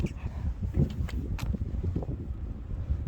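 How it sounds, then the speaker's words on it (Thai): Steady low wind rumble buffeting the microphone throughout, with a few faint brief clicks on top, outdoors near ducks. "ลมก็แรงนะคะทุกคนลมแรงมา"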